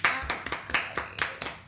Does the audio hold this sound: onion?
no